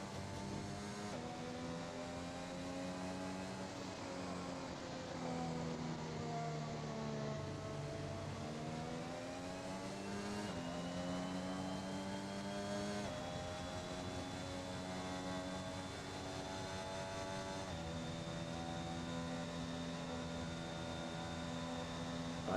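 A pack of race cars in a racing video game at Monza drones along behind the safety car, with layered steady engine tones rising and falling in pitch together, a continuous loud hum with no talk.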